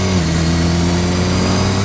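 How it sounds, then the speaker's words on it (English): A 2015 BMW S1000R naked motorcycle with an inline-four engine revs steadily on the road, its loud sustained drone climbing slightly in pitch, close and alone with no talk. "So this is the 2015 BMW S1000R"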